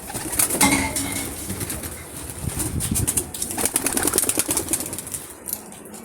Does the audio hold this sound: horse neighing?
no